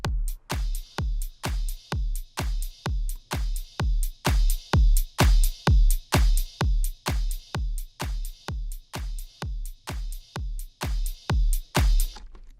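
A punchy, heavily compressed drum loop with a booming kick and sharp claps hitting in a steady, even rhythm, loud and dense throughout.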